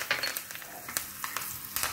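Mustard seeds, asafoetida, chili and curry leaves crackle and sizzle in hot oil in a pan for a sambar tempering, a steady close frying hiss with scattered sharp pops throughout, no voices.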